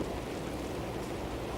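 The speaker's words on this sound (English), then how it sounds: "I don't know how much good it's going to do in this downpour" Heavy rain downpour, a steady dense broadband hiss of falling water that stays constant and fairly loud the whole time, with no voices.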